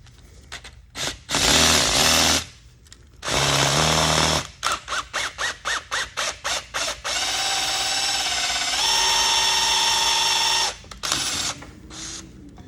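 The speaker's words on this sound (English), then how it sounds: "Drill this bitch out." A power drill whirs in long bursts and rapid stuttering pulses while drilling out a car subwoofer mount, loud and close, with mechanical whine rising and falling between pauses.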